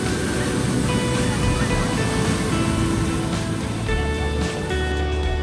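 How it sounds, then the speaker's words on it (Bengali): Sea waves crash and surge on Rushikonda beach as a loud, continuous roar of surf close by, with a steady wash of water throughout. "আস্তে আস্তে ঢেউয়ের গতিবেগ বাড়তেই চলেছে।"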